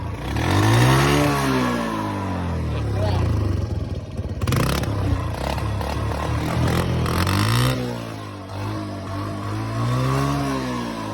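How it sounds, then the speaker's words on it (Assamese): A motorbike fitted with bicycle handlebars idles and revs in repeated rising and falling surges, close by, with clattering mechanical noise and someone talking over the engine. "বাইক ষ্টাৰ্ট হৈ গ'ল"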